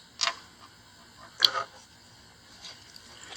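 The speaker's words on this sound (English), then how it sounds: "let's take a look at shutter speed selection on this Nikon F2 AS" The shutter speed dial on a Nikon F2 AS 35mm SLR turns with a few sparse, small mechanical clicks, close and quiet against a faint room hum.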